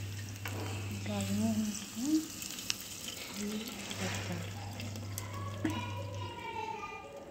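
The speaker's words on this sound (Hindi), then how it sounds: "तड़का तड़का डाल दिया।" A soft sizzle of tempering frying in hot oil for dal hisses steadily underneath, with faint clinks and light background voices and a low electrical hum.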